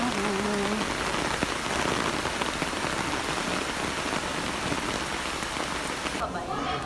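Steady heavy rain patters on surfaces in a late-afternoon downpour, a dense continuous hiss that stays loud throughout with a brief faint tone near the start.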